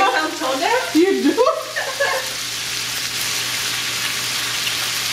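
Deviled shrimp (camarones a la diabla) sizzle steadily in a pan, a constant crackling hiss that continues alone after a brief stretch of humming or singing voice at the start.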